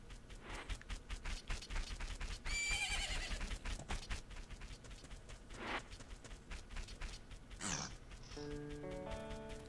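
A horse in The Legend of Zelda: Majora's Mask at a ranch neighs once in a game scene, amid clip-clopping hooves, mechanical clicks and synthesized music tones near the end.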